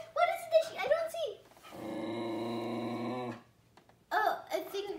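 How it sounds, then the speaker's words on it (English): A dog outdoors growls and whines at something orange up in a tree, a drawn-out tonal rumble of about a second and a half between stretches of nearby human talking. "I think he's barking at that, the orange thing."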